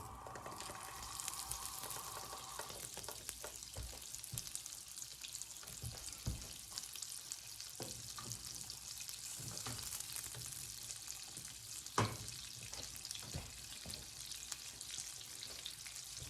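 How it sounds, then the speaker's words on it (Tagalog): Butter melts in a pan with a soft, continuous sizzle, with a few louder crackles and clinks throughout and no talking. "Well, slowly melting ang ating butter."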